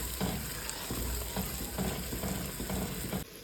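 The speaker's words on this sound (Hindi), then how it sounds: "गरम मसाला, धनिया पाउडर, हल्दी, और अब हम इसे अच्छे से भूनेंगे थोड़ा सा।" Garam masala, coriander powder and turmeric frying in a pan for a kofta gravy, a continuous sizzle with rhythmic scraping and stirring strokes of a spoon, close and fairly quiet, with no talk.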